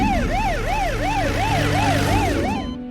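An ambulance siren wails loudly and close by in a steady rising-and-falling cycle, about seven sweeps over three seconds, layered over road and engine noise, then cutting off abruptly at the end.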